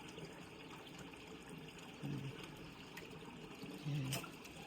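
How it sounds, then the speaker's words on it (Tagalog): Water trickling and running in a garden after rain in rural Japan, a faint, even flow with two short low tonal blips breaking through. "Sarap pakinggan ng tubig, di ba?"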